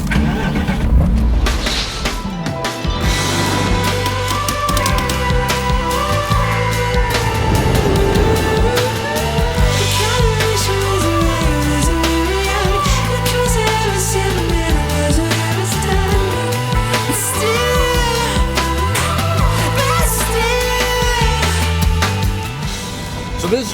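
A Morgan Aero 8 with its BMW engine starts up loudly and pulls away, the engine revving and rising through the gears, close and sustained with no talking.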